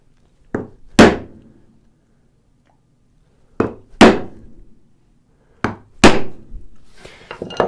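A wooden mallet strikes a chisel along a marking gauge line on a woodworking tool tote. There are three pairs of sharp, close knocks, each pair a lighter tap and then a heavier blow, with quiet between pairs.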